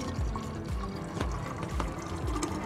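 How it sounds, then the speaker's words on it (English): Water runs from a filtered drinking-water faucet into a van conversion sink built of bamboo, a steady near splashing pour with a few drips, heard alone. "The faucet is filtered, but we have a designated drinking water faucet here"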